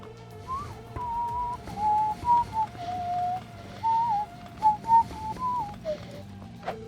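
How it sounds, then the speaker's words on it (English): Someone whistles a light, wandering little tune in clear melodic phrases, with a soft game-like background hum underneath. "Nothing like whistling a little ditty"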